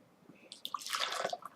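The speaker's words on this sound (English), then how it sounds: "I'm going to pour it into a small cup" Juice poured into a small cup, a short trickling splash that builds and gurgles for about a second, close and fairly quiet with no talking.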